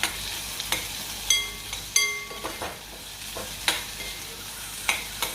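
Potatoes frying in a pan with already-browned onions for a cauliflower and potato sabji, heard as a low steady sizzle broken by several sharp scraping and stirring clatters, with no talk.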